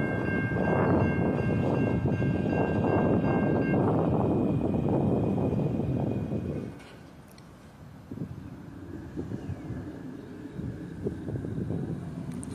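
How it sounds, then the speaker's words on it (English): Long autorack freight train passing Oakland Junction after leaving Atlanta, a loud close rumble and roar with wind buffeting that drops away sharply partway through, leaving quieter rolling noise and clanks. "Looks like an Autorack train."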